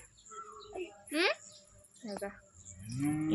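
A tethered cow lets out a short low moo that rises near the end, with faint bird chirps and scattered background noise around it.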